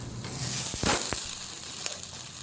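Thalipeeth roasting in oil in a covered pan, giving a soft steady sizzle with a few brief crackles and a louder burst near the start.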